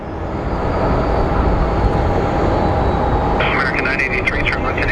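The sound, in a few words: airplane taking off at Phoenix Sky Harbor airport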